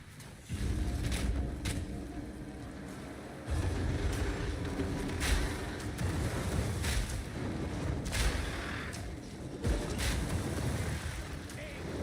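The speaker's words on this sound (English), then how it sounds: "Always like watching things explode" Repeated booming explosions in a video game, several heavy blasts spaced a few seconds apart over a steady rumbling background, with no talking.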